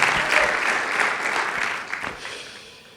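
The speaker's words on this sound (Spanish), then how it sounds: "¿Cuántos le dan ese aplauso al Rey de la Gloria?" A church congregation applauds, dense clapping that swells briefly and then gradually fades out over a few seconds.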